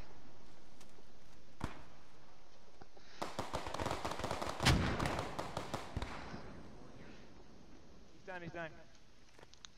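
Bursts of gunfire rattle through a war video game match on the Stonne map, with rapid volleys clustered in the middle and scattered single shots around them, all mixed under a voice talking.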